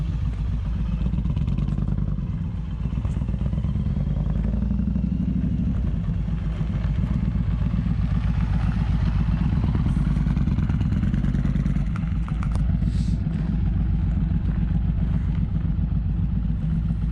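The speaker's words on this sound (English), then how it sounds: "It's not overly loud when you're just cruising. No, it's got a nice tone to it." A 2022 Indian Pursuit motorcycle fitted with a Toce Performance exhaust cruising along, its engine giving a steady, moderately loud rumble with a clattery texture, continuous throughout and without speech.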